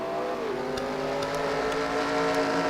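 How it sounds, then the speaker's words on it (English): Race car engine in a Daytona racing video game, a steady sustained drone with a gradually shifting pitch as the car drives by, continuous and moderately loud with no talking. "I'm going to push over and see the Halo Reach car driving by."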